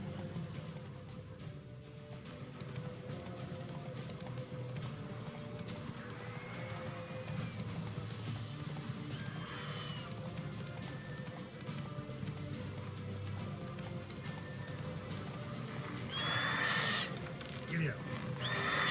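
Roach, Geralt's horse in The Witcher 3 video game, gallops with steady, muffled hoofbeats under faint talk, and a brief whinny rises near the end.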